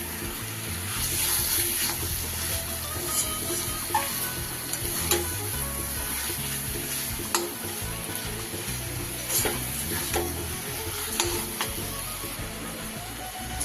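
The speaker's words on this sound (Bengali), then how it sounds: "চিকেনটা দিয়ে খুব ভালো করে আমি মশলার সাথে মিশিয়ে নেব।" Chicken pieces frying with spices over a raised gas flame for chicken dopeyaza, a continuous wet sizzle under repeated scraping stirs and clinks of a spatula in the pan, close and moderately loud.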